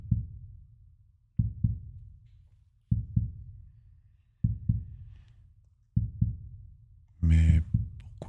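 Slow, steady heartbeat used in a French hypnosis relaxation recording, deep double thumps repeating roughly every one and a half seconds, close and soft, ending with a brief louder burst.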